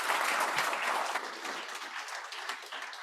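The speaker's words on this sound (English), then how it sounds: "So we can give a big applause." An audience applauds at a smart cities demo day, a dense, even wash of many hands clapping that is loud at first and slowly fades.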